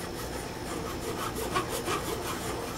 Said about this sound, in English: That was from working it with the files and that sanding stick.